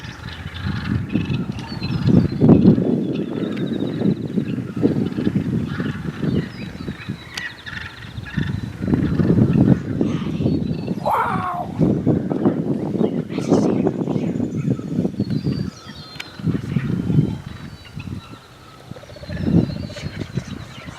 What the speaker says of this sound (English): This massive turkey fight goes on.